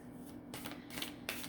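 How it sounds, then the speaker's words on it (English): A tarot deck of thick, glossy cardstock is shuffled by hand, giving soft, quick riffling and sliding bursts close by, with no talking. "It shuffles pretty well"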